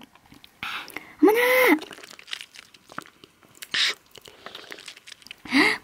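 A giant cola-bottle-shaped jelly is sucked and chewed through a straw, with loud close slurping and squishy bursts separated by pauses, plus a brief spoken exclamation.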